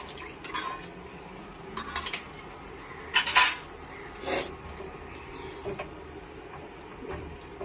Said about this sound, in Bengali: এখানে তেঁতুলের বাটিটা একটু ধুয়ে সামান্য করে জল দিয়ে দেবো।